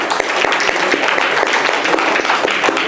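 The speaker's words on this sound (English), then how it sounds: "let's applaud her today" A festival crowd at a film festival in Hyderabad gives a festival organizer a dense, loud round of applause, steady and sustained throughout without any pause.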